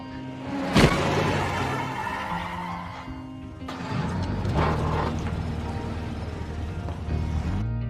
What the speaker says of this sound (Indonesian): Saat George berhenti dan menghampiri Kevin, tiba-tiba sebuah mobil menabraknya dari belakang.